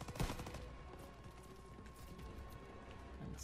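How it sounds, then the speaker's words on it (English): Call of Duty: WWII gunfire in a World War II campaign battle: a loud close shot at the start, then a dense, steady wash of distant automatic and rifle fire rattling on under the mix. "Sorry, I'm firing in your ear."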